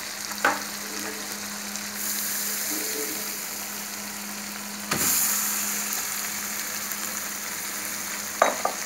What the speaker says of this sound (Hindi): अब हम इसमें शामिल करते हैं मैश्ड पोटैटोस।